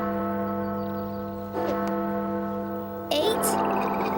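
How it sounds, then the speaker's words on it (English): A cartoon town clock bell striking noon, a sustained resonant bell tone ringing steadily under a low hum, with a brighter clang and a short voice near the end. "Is that the town clock? Since when does it have a bell?"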